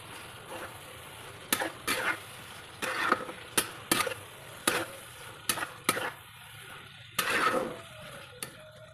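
A spoon scrapes and stirs potato and bodi bean curry in a pan, with about eight sharp clinks against the metal spaced through a soft background sizzle.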